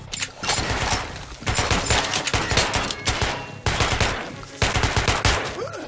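Dense automatic gunfire from the video game Metro: Last Light, loud continuous bursts of rapid shots in several clusters with brief gaps between volleys, no voices over them.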